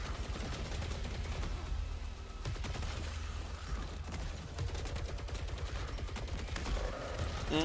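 Rifle gunfire in the video game Saros, rapid bursts of shots rattling almost continuously at moderate loudness, with occasional heavier booms.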